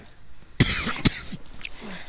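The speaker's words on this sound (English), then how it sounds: "I'm coughing McGee today." A person coughs twice in quick succession, loud and close, with a bit of throat clearing and rustling noise around it.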